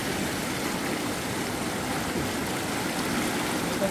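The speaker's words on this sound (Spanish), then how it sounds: "¿Cómo ves esta creciente, Gilo?" A flooded river rushes past nearby in a steady, loud, unbroken roar of churning water, with no voices heard.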